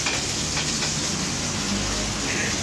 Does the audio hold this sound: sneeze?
no